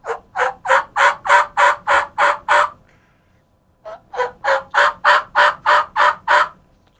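Diaphragm mouth call imitating a raspy old hen turkey yelp, two loud close runs of about eight evenly spaced raspy yelps each, separated by a short pause.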